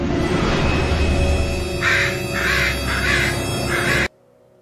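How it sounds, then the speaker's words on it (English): Crows from The Legend of Zelda Twilight Princess caw in a run of four short, loud, harsh calls at night, set over a steady game background that cuts off abruptly at the end. "at nighttime there will be enemies here, and by enemies I mean crows"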